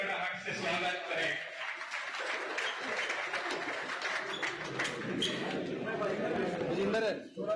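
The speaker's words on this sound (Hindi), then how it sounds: "वकील साथियों से रिक्वेस्ट कि तालियों की गड़गड़ाहट से स्वागत करें" Applause from lawyers at a meeting welcoming an MP candidate in Panipat, with steady clapping filling the room beneath a speaker's voice and crowd chatter.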